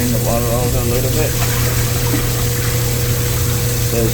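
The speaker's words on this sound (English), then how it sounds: "Drain the water out a little bit." Water pouring and gushing steadily as it drains from a container of beans and rice left soaking for 72 hours, loud and close throughout, with a low motor-like hum underneath.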